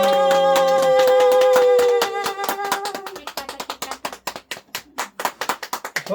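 A family clapping at a child's birthday cake cutting: a sung or sustained tone gives way to a run of close, rhythmic hand claps that grow sharper and more even toward the end.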